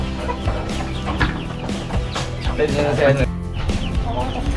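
Brahma breeder chickens clucking on a rooftop coop, steady close clucks and fowl calls over continuous background noise, with someone speaking over the birds.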